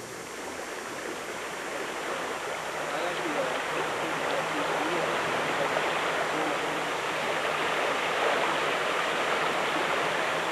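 Water of the west branch of Duffins Creek streams steadily over its bed, a broad, continuous rushing that stays even and fairly close throughout, with no voices over it.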